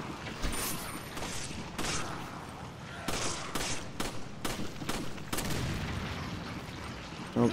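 A Gatling gun fires in Resident Evil 5 on Xbox One: a series of sharp gunfire bursts and clattering impacts in uneven rhythm, moderately loud, with mechanical noise between shots.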